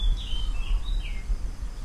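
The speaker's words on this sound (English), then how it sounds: "some of the morning singing birds" Birds sing in the early morning at a rental house in Thailand, a few thin, high chirps and short whistled phrases drifting faintly from a distance over a low, steady background rumble.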